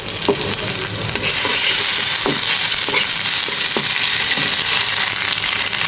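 Vegetables with ginger paste frying loudly in a pan, a steady dense sizzle with spatula scrapes and stirring knocks recurring every half second or so, no talk.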